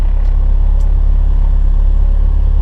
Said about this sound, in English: Let's do a few pulls, see how it feels. On the highway now, just driving normal.